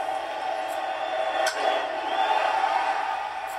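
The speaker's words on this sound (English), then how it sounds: "Listen to this crowd." A baseball stadium crowd in Cincinnati roars in a steady, loud wash of voices, with a brief swell around the middle and no clear single voices standing out.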